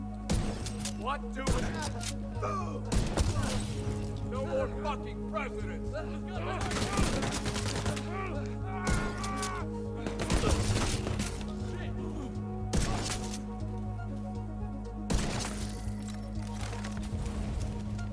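Gunfire in the video game The Division 2 crackles in sharp, scattered shots over a steady droning background while someone talks in Ukrainian throughout.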